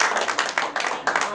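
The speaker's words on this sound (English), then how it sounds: "Give God a hand clap of praise." A church congregation claps hands in praise during a service, a dense burst of many hands in a quick uneven rhythm with voices mixed in, lasting under two seconds.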